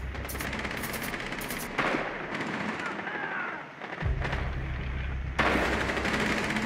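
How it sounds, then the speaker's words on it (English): Bursts of machine gun fire in Rainbow Six Siege, a bomb match on the Kanal map, loud and near in short repeated volleys amid game noise, with players talking over it. "Yeah, machine gun."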